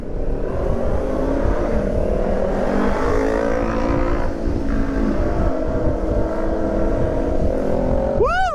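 A motorcycle engine roaring continuously and loud on a club group ride in the Bicol, Samar and Leyte region, with rising and falling revs close by throughout.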